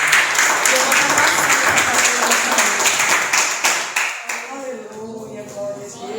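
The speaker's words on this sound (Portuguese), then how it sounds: "mais palmas que engrandecem a missão de Deus" A church congregation claps together in a loud, dense burst that fades out after about four seconds, followed by quieter voices and room sound.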